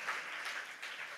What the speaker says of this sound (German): Kommt, wir geben Jesus mal einen großen Applaus